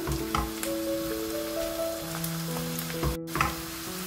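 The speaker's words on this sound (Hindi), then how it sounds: "अब इस पॉइंट यहाँ पे मैं जीरा, कलौंजी और लाल मिर्च साबुत जो है इसको डाल दूंगी, ऐड कर दूंगी, और ताकि ये भी फ्राई हो" Onion, cumin seeds, nigella seeds and whole red chillies fry in hot oil for spiced achari potatoes, giving a steady close sizzle with a faint tonal hum behind it.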